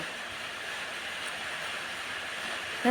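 An old train at a train museum, a steady even rumble and hiss of rolling stock heard from inside the carriage, continuous and moderately loud with no talk.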